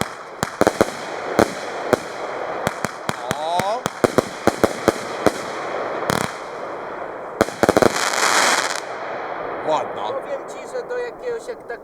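Consumer fireworks from Lidl launching high and bursting outdoors, with many sharp cracks and pops in irregular bursts and a denser crackling barrage near the end, while people talk and exclaim throughout.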